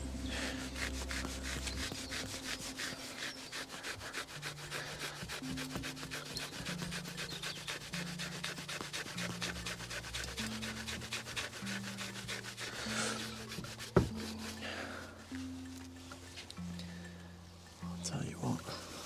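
Rusty LS crankshaft journals are buffed with a fast-spinning microfibre pad on a woolly, giving a continuous rubbing, whirring hum with shifting low tones, voices talking over it.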